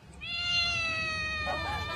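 A cat meows once in a long, drawn-out harmonic cry lasting over a second, close and fairly loud, with a brief rougher tail at the end over a faint room background.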